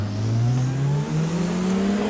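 Tatuus F3 open-wheel race car engines in a sim racing game, a loud steady droning whine that rises in pitch as the cars accelerate side by side.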